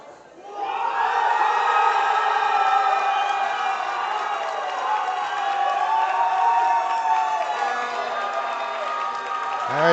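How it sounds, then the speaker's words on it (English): Loud crowd cheering and whooping at a 2024 NAPF classic men's 93 kg powerlifting championship, a sustained roar rising within the first second and holding steady for the full ten seconds. "All right, the crowd goes wild."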